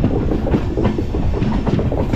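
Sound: 14674 Shaheed Express train running on tracks

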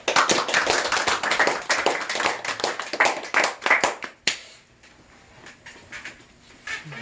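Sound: applause

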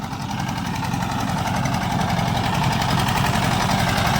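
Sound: Peter engine running on crop sprayer tank

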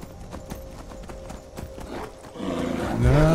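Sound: horse hooves clip-clopping in video game Skyrim

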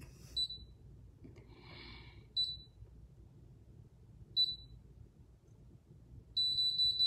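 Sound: beep of hair relaxing device

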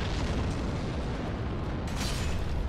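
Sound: bombs exploding in Dark Souls video game

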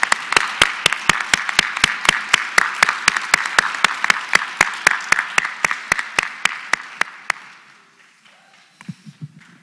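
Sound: audience applause

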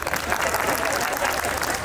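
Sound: audience clapping at a Gujarati wedding dayro

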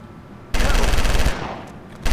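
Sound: automatic shotgun firing like a minigun in the video game LA Cops

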